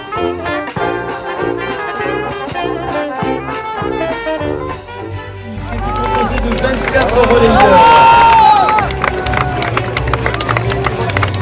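Crowd at a Paralympic flame relay in Antibes, loud applause and cheering swelling midway, with a commentator talking over it and general outdoor crowd noise throughout.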